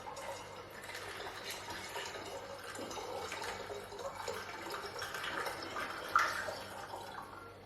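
Water is poured into a vessel while making honey mead, a soft trickling and splashing fill that is fairly quiet and steady, with a small clink near the end.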